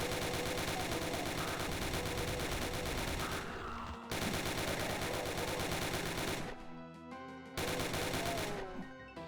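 Rapid, continuous gunfire from hitscan enemies fills a Wolfenstein-themed Doom WAD, dense loud bursts of shots with two brief dropouts before the barrage resumes.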